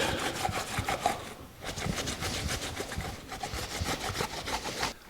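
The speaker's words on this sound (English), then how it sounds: "we're just going to wipe down the gasket surface" Rag wiping the engine gasket surface of a 1984 Jeep CJ7, a steady close rubbing and scrubbing with repeated strokes throughout, no speech.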